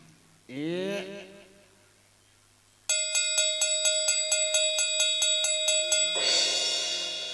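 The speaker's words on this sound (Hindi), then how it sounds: "और घंटी हिलाओ।" A small bell is shaken in a quick, steady series of jingling strikes for several seconds during a folk tableau performance, preceded by a brief tonal sound and followed by a soft rushing hiss.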